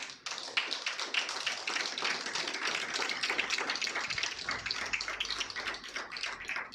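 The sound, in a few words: congregation applause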